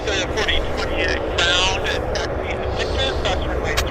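A plane rolls along the ground at Vancouver airport (YVR), making a continuous engine roar and rumble under steady talking voices.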